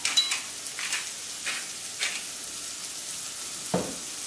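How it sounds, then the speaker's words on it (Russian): Sliced zucchini frying in a pan, a soft continuous sizzle broken by several scraping stirs of a spatula, fairly quiet and close, with no talking. "Кабачки у нас уже хорошо прожарились."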